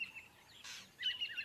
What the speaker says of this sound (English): By the sixth day, insect-eating birds find the carcass.